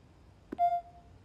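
A single keypad key on an alarm panel in Spider-Man 2 on PS5 plays a short musical note: a soft click, then one clear sustained tone that fades, over a low hum.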